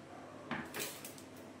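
Rice stirred in a hot pot for basanti pulao: a couple of brief, faint metallic scrapes and knocks of a spoon against the pot, quiet and close, with no voices.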